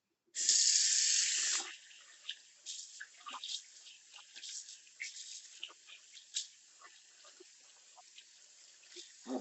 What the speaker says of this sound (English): Let's give this a rinse.